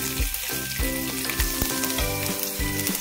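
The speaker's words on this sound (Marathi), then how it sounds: "लसूण आपल्याला थोडासा ब्राउन होईपर्यंत इथे तेलामध्ये परतून घ्यायचा आहे।" Garlic frying in hot oil with cumin, asafoetida and curry leaves in a pan, giving a steady dense sizzle and crackle with occasional stirring knocks, close and without talk.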